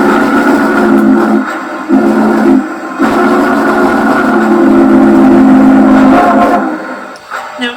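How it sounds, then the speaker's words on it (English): An LGB Aster Hudson model steam locomotive with a Zimo sound decoder sounds a crossing whistle pattern: two long blasts, a short one, then a long held blast, loud and close. "So F5 is the crossing whistle"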